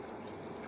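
Water trickles briefly into a glass of Ardmore single cask whisky, a soft, faint, steady pour with no voices.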